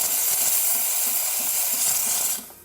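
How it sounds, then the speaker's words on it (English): Strong, steady steam hiss from a Jura ENA5 coffee machine's wand after a full tune-up, loud and continuous for over two seconds before cutting off abruptly at the end. "See a really strong steam now, working great."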